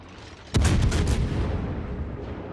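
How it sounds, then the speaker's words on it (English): A World of Warships battleship, the North Carolina, fires a salvo of high explosive shells: one sudden loud heavy boom with a few rapid following blasts, then a long fading rumble. "the North Carolina is shooting high explosive and missing"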